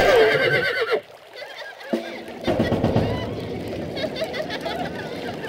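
A horse whinnies loudly in the strategy game Stronghold Crusader, one drawn-out neigh in the first second, followed by a dense wash of game battle and crowd noise.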